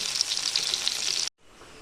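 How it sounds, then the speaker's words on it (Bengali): Potatoes and cauliflower sauté in hot oil with a bright, steady close sizzle that cuts off abruptly near the end. "আলু আর ফুলকপি একসাথে আমি এখন ভালো করে সাঁতলে নিচ্ছি"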